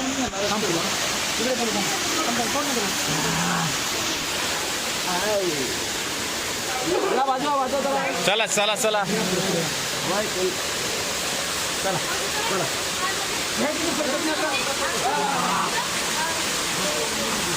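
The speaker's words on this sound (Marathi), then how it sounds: "पाणी कुठून यायला लागले बघा" Water pours down steadily at a temple near Tirupati, a constant rushing wash with people talking over it throughout.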